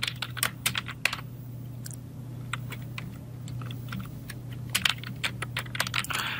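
Fingers type Bangla text on a computer keyboard in quick irregular bursts of light clicks, close and fairly quiet over a steady low electrical hum, with no talking.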